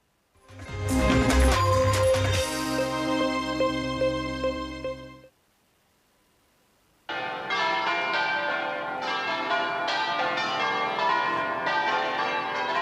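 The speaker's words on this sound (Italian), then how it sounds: "Le campane a festa accolgono il feretro davanti alla chiesa parrocchiale." Church bells ring festively outside a parish church in Tezze as a coffin arrives for a funeral. The loud, dense peals break off for a brief silence, then resume just as full and resonant.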